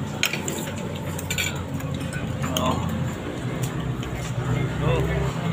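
Jumbo lomi noodles being stirred in a big pot, heard as steady scraping and clinking of a utensil under constant loud chatter and talk from several people.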